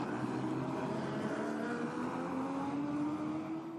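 GT4 race cars at the Red Bull Ring, their engines roaring in a steady, continuous drone with one rising tone climbing gradually as a car passes at speed, loud and unbroken throughout.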